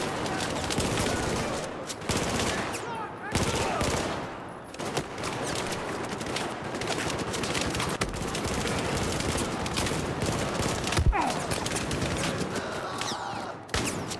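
Rapid automatic gunfire in a Battlefield 4 campaign firefight: loud, sustained bursts of shots at close range, broken by brief pauses and occasional sharper cracks, with a voice talking over parts of it.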